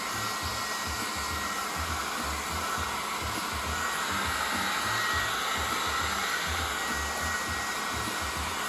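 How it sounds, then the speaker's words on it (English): A hair dryer blows hot air onto acrylic paint, a steady, loud broadband whoosh with a low rumbling hum that holds unbroken for about nine seconds, with no talking. "I get a little bit of a hair dryer and I heat it up a little bit"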